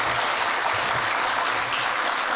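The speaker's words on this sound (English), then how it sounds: "I want applause here" Audience applause for author Liz Moore at an evening book-tour event, a steady, dense clapping that holds at an even level throughout the short stretch with no voices on top.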